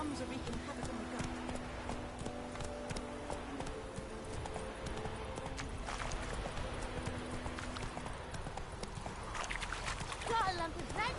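Roach the horse clip-clops at a steady walking pace in a video game, hooves clopping rhythmically under frequent talk and ambient townsfolk chatter.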